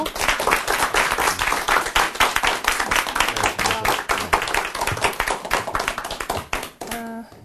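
A studio audience at a Korean lecture program applauds, with dense, sustained clapping filling the whole stretch and a musical chime rising near the end.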